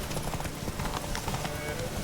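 Roach the horse gallops in The Witcher 3, rapid rhythmic hoofbeats drumming steadily throughout the short stretch, with game voices talking over them.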